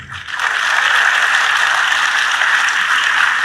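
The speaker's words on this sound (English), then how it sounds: "So let's clap for ourselves." An audience of students at a VNIT Nagpur interaction event bursts into loud, sustained applause that swells within half a second and holds steady as a dense wash of clapping.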